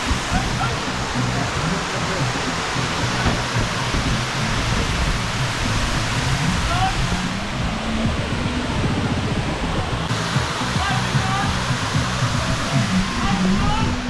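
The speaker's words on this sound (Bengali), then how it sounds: "এই বর্ষায় ঝর্নার যৌবন ফিরে পায় পুরো পানি পড়তেছে খুব স্পিডে" A small monsoon-swollen waterfall at Shuvolong in Rangamati pours fast and hard, a loud, unbroken roaring rush of falling water that stays constant and close throughout.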